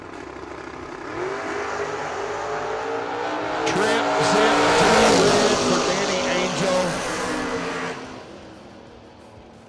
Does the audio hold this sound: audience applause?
no